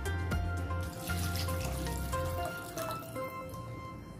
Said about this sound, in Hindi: इसमें हम और पानी डालेंगे थोड़ा।